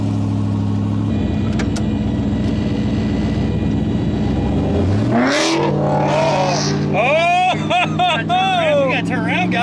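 A 700hp turbocharged, LS-swapped Foxbody Mustang pulls away, its engine rising from a steady low idle into a revving climb with sweeping pitch changes; the engine is loud and close, continuous throughout, with people talking over it.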